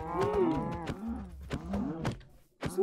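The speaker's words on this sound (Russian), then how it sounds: "Корова." A cow in the video game Minecraft moos several times in low, drawn-out calls with rising and falling pitch, close and fairly clear, with soft thuds between them.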